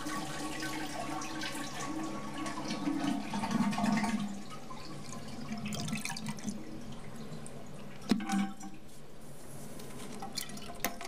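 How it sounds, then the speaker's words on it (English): A toilet with its water supply shut off being flushed, a gurgling rush of draining water that swells and fades, followed by trickles and drips. "now let's flush the water out of the toilet"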